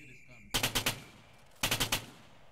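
Machine gun fire in a war video game, two tight bursts of about four loud rounds each, separated by a short pause, with a steady hum of game ambience underneath.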